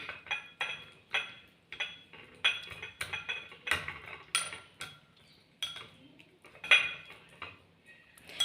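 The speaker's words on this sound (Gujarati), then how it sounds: "લસણની ચટણી નાખી દેવાની અને એને એકદમ મિક્સ કરી દેવાની તેલમાં" A spoon mixing garlic chutney into raw, unheated oil in a bowl, making quick rhythmic metal clinks and scrapes that come in short repeated strokes, close and crisp with quiet gaps between.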